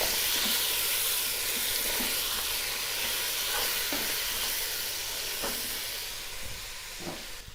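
Garlic and ginger sizzle and hiss steadily in a pan, with occasional soft stirring scrapes, close and fairly loud, no voices.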